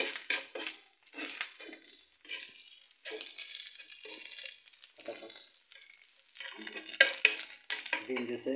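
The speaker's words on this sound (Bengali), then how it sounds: "গোশ দিয়ে আলু দিয়ে ভাজিছে।" Meat and potatoes fry for noodles in a home kitchen in Khulna, giving an irregular sizzle with bursts of stirring and scraping against the pan, close and moderately loud.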